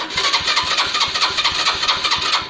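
A Lexmoto Valiant motorcycle engine starts and runs with half choke, a close, steady rapid chugging pulse throughout the short stretch with no talk over it.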